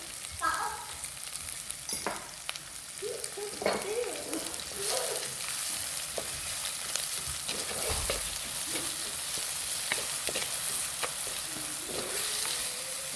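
Onion for a salmon fish curry fries in a hot pan while being mixed, giving a steady sizzle up close. Frequent spoon scrapes and clacks come in irregular bursts over the hiss.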